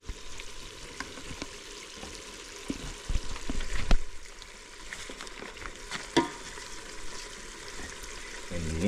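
Food cooks in a pot over a traditional village fire, a steady sizzling bubble with scraping stirs and occasional knocks against the pot, close and continuous.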